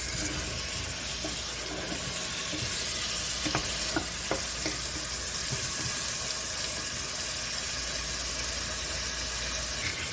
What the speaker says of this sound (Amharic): ዶሮዋን እንደዚህ ጠበስ እናደርጋታለን